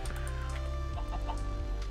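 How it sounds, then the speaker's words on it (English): Chickens in the video game Minecraft cluck in short, close bursts over a steady background music bed, with no talking. "Now there are chickens here too"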